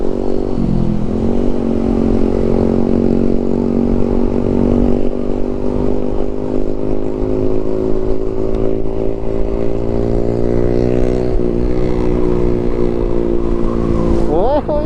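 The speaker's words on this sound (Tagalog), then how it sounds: "Tinanggal namin yung silencer ng motor ni Kuya Arden." Loud, raw drone of a motorcycle engine running with its silencer removed, a scooter-class bike on a night ride, holding a steady harmonic roar with pitch shifts as it revs near the end.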